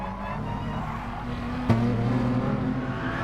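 Race cars compete at Bathurst in a game, with a constant loud engine drone and a sharp knock partway through, followed by higher revving engine tones.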